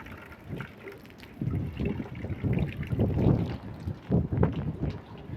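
Gusty wind buffets the microphone outdoors while rainwater is collected into containers, coming as low, rumbling bursts that swell and fade irregularly throughout, loud and close.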